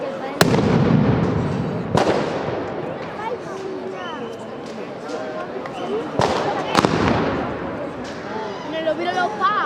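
Mascletà firecrackers explode at a street festival in Oliva, with sharp, loud bangs and rapid crackling bursts repeating through the clip, while nearby voices talk and shout over the barrage.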